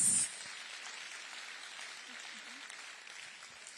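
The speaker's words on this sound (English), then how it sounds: "I want us to give the Honorable Minister a round of applause" A faint, distant round of applause from an audience at a Lagos stakeholders' meeting on the Lagos-Calabar coastal highway, a soft continuous patter after a brief louder bump at the start.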